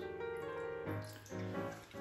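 Water pours from a tap into a cooking pot holding pork, a steady close splashing rush with shifting tone as the pot fills, moderately loud with no talking.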